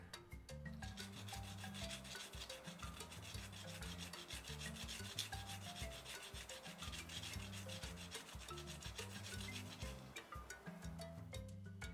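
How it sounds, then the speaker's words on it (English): Sandpaper rubbed over a small leaf pendant, with rapid back-and-forth rasping strokes in a continuous rhythm, close and fairly quiet, with no talking. "I like to sand at the bottom of my leaf as well as on top"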